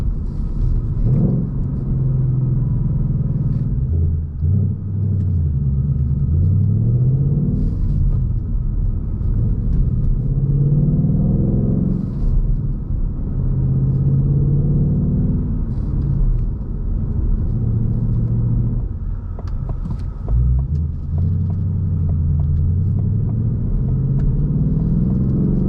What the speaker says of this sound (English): Sound is just crazy with this.